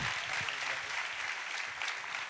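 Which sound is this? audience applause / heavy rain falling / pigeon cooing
audience applause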